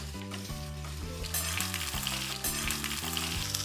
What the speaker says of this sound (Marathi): आणि आता या तेलामध्ये आपण ही भेंडी थोडीशी परतून घेऊया.